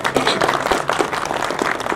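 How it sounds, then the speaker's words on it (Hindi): An audience welcomes guests at a traditional music program with applause, a dense, continuous patter of many hands clapping at close range, loud and steady throughout. "आप एक दफा तालियां बजा के उनको वेलकम कर दें।"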